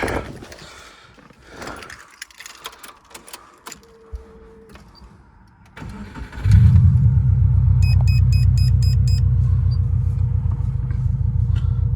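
Mechanical clatter and rumble, then a turbocharged Subaru engine starts up loud and close, settling into a steady, throaty idle with a slightly uneven pulse.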